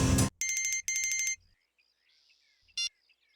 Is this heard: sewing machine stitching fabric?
no